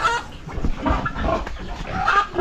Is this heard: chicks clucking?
yes